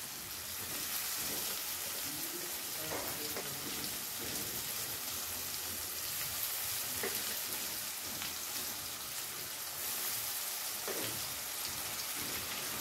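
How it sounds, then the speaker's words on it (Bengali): Garlic paste frying in a pan with softened onion and tomato as it is stirred, giving a steady, dense sizzle that runs unbroken throughout, close and fairly loud, with no voices. "রসুন বাটাটা দেওয়ার পরে পেঁয়াজ আর টমেটোর সাথে একটু ভালো করে কিছু সময় নেড়ে নিতে হবে।"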